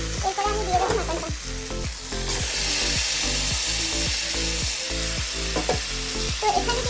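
Mutton goes into a hot pan with fried tomatoes, sizzling loudly, while a utensil scrapes and stirs in a regular rhythm of repeated sharp knocks throughout.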